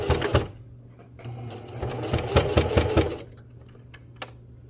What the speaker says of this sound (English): and I'm going to begin stitching. Don't forget to backstitch a couple of times.